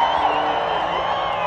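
Crowd at a Gymkhana GRiD drifting final in Johannesburg cheering for drifter Daigo Saito, a dense, steady roar of many voices with whoops, sustained throughout at a fairly close distance.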